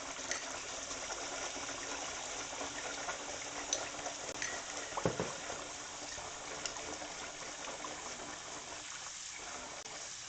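Tap water runs in a steady, continuous stream into rice being washed in a kitchen, a moderate hiss throughout with a few small clinks and splashes, and no talking.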